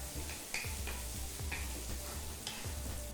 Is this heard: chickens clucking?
no